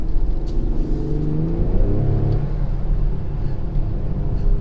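A 2020 Ford Super Duty pickup truck engine revs up hard and climbs in pitch, loud and close, with a steady low rumble throughout and no talking.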